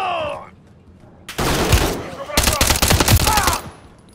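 Call of Duty Modern Warfare 3 gunfire comes as two loud, dense bursts of rapid automatic shots, close and punchy, with a short pause between them and a brief voice at the start.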